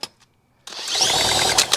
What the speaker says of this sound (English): Let's put the drill on this.